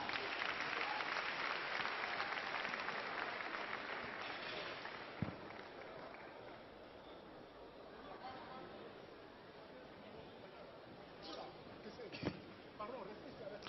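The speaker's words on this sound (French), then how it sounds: "On l'applaudit, s'il vous plaît." A studio audience at a televised New Year event applauds a guest with loud, sustained clapping that gradually thins out, while a few louder claps and faint crowd chatter continue toward the end.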